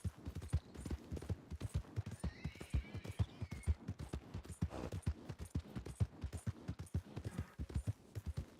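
Horse hooves clip-clop in a steady, rapid rhythm through the Red Dead Redemption 2 video game, with a brief whinny partway through and faint game sounds underneath.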